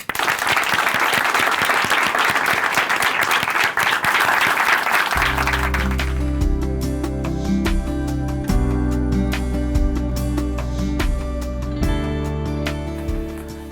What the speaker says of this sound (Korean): 춘천 한마음교회 이숙자 자매님 박수로 모시겠습니다.